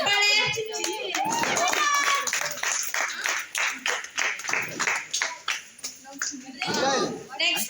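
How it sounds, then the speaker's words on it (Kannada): Scattered hand clapping from a crowd at a neighbourhood Ganesha festival prize-giving, irregular bursts mixed with children's voices and talk. "ಎಲ್ಲರೂ ಚಪ್ಪಾಳೆ ಹೊಡೀರಿ."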